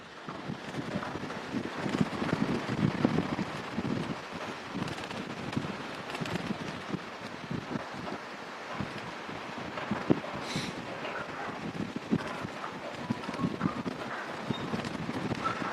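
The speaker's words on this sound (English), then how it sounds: "It is very windy though" Strong wind buffeting a microphone outdoors at SpaceX Starbase, Texas, a continuous loud rumbling roar with uneven gusty surges lasting the whole stretch.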